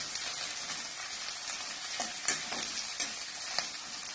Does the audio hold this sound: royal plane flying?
no